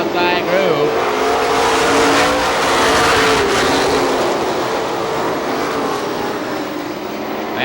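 Race cars roar around an oval short track at Star Speedway in New Hampshire, a loud continuous engine drone with shifting pitch as the pack passes, running steadily through the whole stretch.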